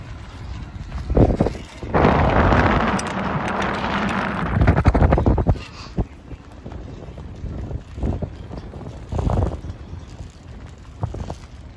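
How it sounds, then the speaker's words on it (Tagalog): Strong gusting wind buffets the microphone on the long, rainy Sellano Tibetan suspension bridge, with loud roaring bursts and quieter lulls, plus scattered footsteps and bumps nearby. "natitinig nyo naman siguro kung gaano kalakas ang hangin, sumisipol"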